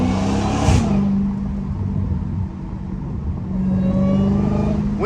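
Dodge Hellcat engine driving through a small park, a steady, loud mid-range drone with a throttle rise near the start and again toward the end, heard close up with no talking.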